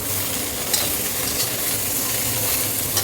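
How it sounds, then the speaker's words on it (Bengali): Flat beans with spices stirred in a pan over a low gas flame, with a steady loud sizzle and scraping stir throughout. "এই যে এবার সিমটা নাড়া হচ্ছে"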